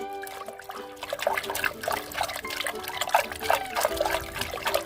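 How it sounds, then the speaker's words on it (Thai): Shallot juice poured into water and stirred for a garden pest spray, a close liquid swishing and trickling with a faint tonal hum in the background. "เสร็จแล้วเราก็ใส่ลงไปในน้ำและคนเหมือนเดิมครับ"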